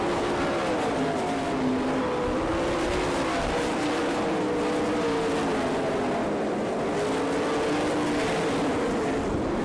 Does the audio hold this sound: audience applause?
no